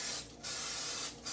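Cooking spray hisses in two long bursts with a short pause between, coated onto beef empanadas with puffing pastry inside an air fryer, close and clear.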